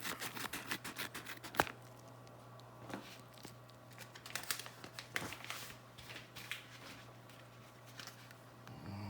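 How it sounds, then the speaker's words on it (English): A package being cut open: crinkling and tearing of packaging with a sharp snip, close and moderately loud, a few rustling bursts over a low hum. "We got another package here. Got another package. Let's cut it open."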